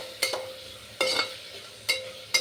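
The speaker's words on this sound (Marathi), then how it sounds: "हलवून घ्यायचं" A spoon scrapes and stirs rice in a pot during veg pulao cooking, four distinct close scraping strokes at irregular intervals over a faint low sizzle, with no talk.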